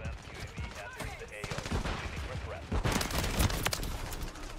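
Rapid automatic gunfire from a weapon in Call of Duty, dense bursts of shots rattling continuously and loudly, with someone talking excitedly over them.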